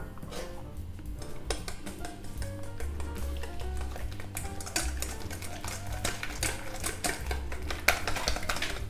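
Cream is beaten with powdered sugar and vanilla essence for a salted almond caramel cheesecake, giving a steady whirring mixer drone with rapid clicking and clattering against the bowl, quiet and continuous with no talk.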